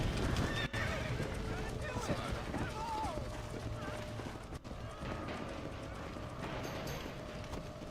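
A horse in the Red Dead Redemption video game whinnies and gallops, hooves drumming steadily beneath a brief neigh, with game ambience and someone talking throughout.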